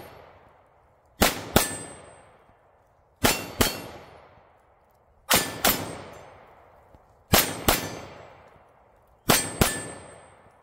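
Glock 23 firing 9mm rounds through a Bear Creek conversion barrel, five sharp reports in pairs, evenly spaced about two seconds apart, each pair a shot followed by a ringing metallic clang that fades.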